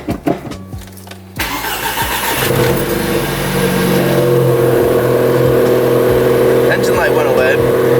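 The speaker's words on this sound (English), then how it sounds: "Let's start it up." A BMW E30 engine cranks briefly with a few starter clicks, catches and settles into a loud, steady idle at close range, with a person speaking over it.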